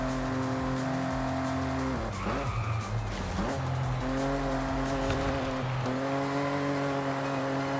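A Toyota Camry races in Forza Horizon 5, its engine droning steadily and revving up and down. Its tires squeal loudly through a corner midway, and no voices are heard.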